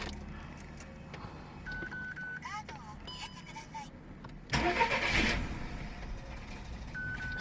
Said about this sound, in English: If I try to start the car, it will not start.